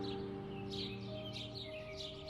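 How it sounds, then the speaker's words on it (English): Several bright bird chirps repeat in quick bursts over a steady humming background, moderately close, beside a river in Laos. "With the sounds of birds and the occasional ripple of the river"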